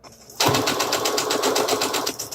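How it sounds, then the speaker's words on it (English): A sewing machine stitches a seam for a Cricut dust cover, going forward then back-stitching to reinforce it: a close, fast rhythmic mechanical whir that starts abruptly and runs steadily, alone without talk. "you go forward a couple of stitches, then you go back stitch a couple"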